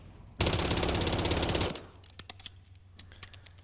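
Pistol gunfire in the Modern Warfare III video game: a dense, loud rapid volley of over a second, followed by a string of separate, quieter single tap-fired shots.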